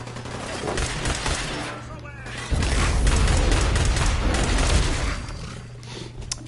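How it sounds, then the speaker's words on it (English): Gunfire in the video game Fallout, a dense stretch of booming shots and rapid bursts that grows heavier partway through, with a voice talking over it. "Oh, who's shooting?"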